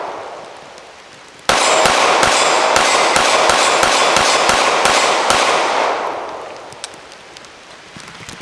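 A Springfield Echelon 4.0c pistol without a compensator fires a rapid string of about a dozen sharp, loud shots, closely spaced in a quick rhythm, with ringing echo trailing off after the last report.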